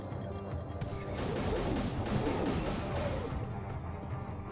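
Shotgun blasts in the game Hellslinger, a few heavy booming shots blending into a dense, loud stretch of game action and impacts.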